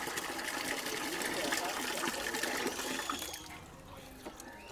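Fish pieces being washed in water, heard as a continuous splashing and sloshing that fades softer toward the end, with talk in the background.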